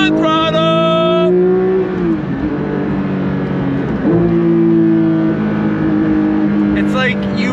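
A 2024 Porsche 911 S/T with a six-speed manual pulls hard on throttle, its engine note climbing and shifting through steady loud revs, with a brief dip between gears and a voice talking over it.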